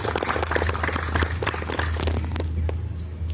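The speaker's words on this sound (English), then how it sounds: "So please give him a big round of applause." Applause from an audience at an international carrom coaching camp, a brief burst of dense clapping over a steady low hum that thins out toward the end.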